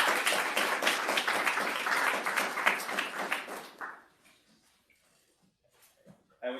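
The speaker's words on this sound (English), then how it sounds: "give Dimitri a round of applause" Audience at an ecological forecasting workshop session claps after a talk, dense applause for about four seconds that stops abruptly, leaving near silence with a few faint taps.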